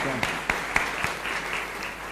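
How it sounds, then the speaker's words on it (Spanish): A chapel congregation claps in loud, steady applause, with a few sharper claps standing out over a continuous wash of hands, held for about two seconds. "Fuerte aplauso"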